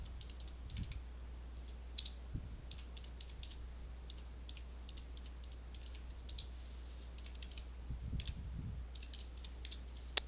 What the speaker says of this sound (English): let's type both of those into our calculator and then add them together